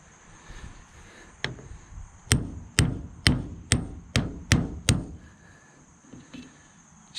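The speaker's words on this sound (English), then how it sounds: "we're going to take a hammer and just tap it in" Seven sharp metallic hammer taps in a steady rhythm, driving a pinion seal into a Dodge Ram 2500 AAM 9.25 front axle, close and fairly loud, over a faint background hum.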